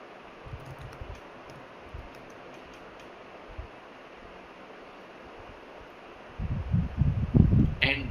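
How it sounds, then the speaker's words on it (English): Soft, uneven keyboard typing as an email address is entered on a computer, faint clicks that give way to a louder, denser burst of keystrokes near the end, with no voices. "So just type in your teacher email ID or any Gmail ID for that matter."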